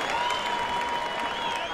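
Boxing arena crowd applauding and cheering as a fight between Giovanni Lorenzo and Raul Marquez ends, a dense steady roar of claps filling the whole stretch at close, loud level.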